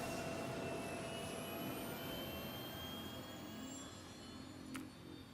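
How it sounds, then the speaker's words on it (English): Spaceship engines run in the video game Star Citizen, a steady jet-like roar topped by thin whining tones that slowly rise in pitch, continuous and moderately distant, with no voices. "Engines online."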